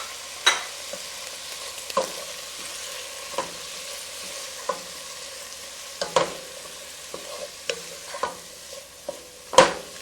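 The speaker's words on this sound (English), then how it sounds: "So what I'm going to do now, I'm going to add my saltfish" Saltfish being stirred into onion and pumpkin sautéing in a pot, heard as a steady low sizzle broken by repeated clinks and scrapes of a spoon at irregular intervals, close and without talk.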